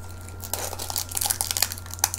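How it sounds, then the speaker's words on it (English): Plastic wrapping crinkles and rustles close up in a quick burst of irregular crackles, louder near the end, with no one speaking. "Sorry for the crinkle noise."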